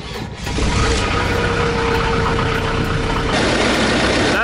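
A Jeep Cherokee XJ engine runs at idle, a loud, steady close-up rumble that settles in within the first half second and holds evenly, with a slight shift in tone near the end.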